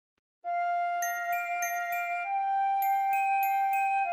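Orchestral bells ring out a bright, sustained melody of struck tones stepping through scale degrees in a high octave, clear and resonant over a steady held note, with no voices.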